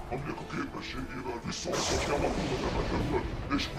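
A fire-blast effect from a live-action Yu-Gi-Oh duel bursts into a loud, sustained roaring rush after a brief rumbling lead-in, mixed with faint voices.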